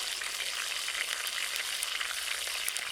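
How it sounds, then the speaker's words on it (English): A steak sizzles in a pan with olive oil and garum, giving a steady, dense hiss with small crackling pops, close up and moderately quiet. "We cook the steak in a pan with olive oil and garum"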